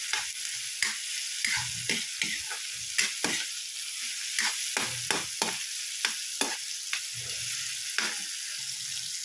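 Garlic, tomato, onion and ginger sizzling in a pan while being stirred, with a steady loud fry under repeated scraping strokes of the utensil, clear and close with no talking.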